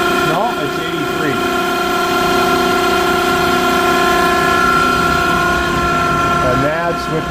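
Spindle of a Smithy AutoMate CNC LT1440 lathe running at 1800 RPM, a loud steady mechanical whine with strong tonal hum and a faint shifting squeal near start and end, close and continuous.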